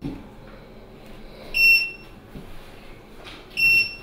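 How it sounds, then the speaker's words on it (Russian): A gas boiler gives two bursts of high electronic beeping, about two seconds apart, over a quiet indoor room hum. "Такой звук котел издает каждые полчаса."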